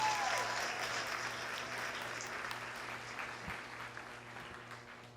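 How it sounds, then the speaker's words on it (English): A round of applause from an audience at a police-community relations awards ceremony, a steady wash of claps heard from a distance, slowly thinning over several seconds, with a low hum underneath. "Give him a round of applause"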